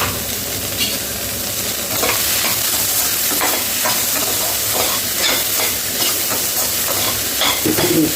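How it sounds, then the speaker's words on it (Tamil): Grated coconut stirred and sautéed in a pan with cooked carrots and beans for a curry, giving a continuous close sizzle with scraping stirring strokes and no talking. "தேங்காய் போட்டு நல்லா வதக்கி கொடுங்க"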